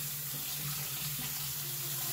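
Lukewarm tap water runs steadily into a bowl in a kitchen, a constant close hiss of flowing water with a low gurgling hum beneath, and no talking.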